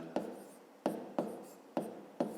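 Handwriting on paper comes through as five short, sharp strokes at uneven intervals, each a quick close scratch followed by a fading rustle, with no talk.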